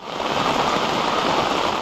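Steady rain falls in a dense, even hiss with no breaks or voices, a broadband wash of droplets during light overnight drizzle in Pakistan.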